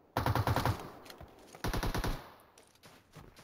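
Two bursts of rapid automatic gunfire ring out in a PUBG firefight, each roughly half a second of closely spaced shots, loud and near, followed by fainter scattered shots and quiet.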